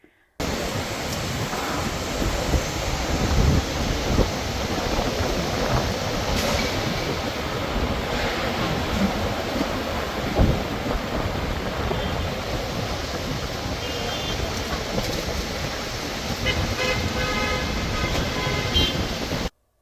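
Strong wind and heavy rain from a mini cyclone storm in Vadodara, a dense, steady roar of rushing air and pouring water at constant loudness throughout, with a few brief louder gusts and no voices.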